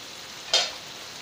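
Steak frying in a pan with rosemary gives off a short, bright sizzle that swells and fades quickly against a low background hiss.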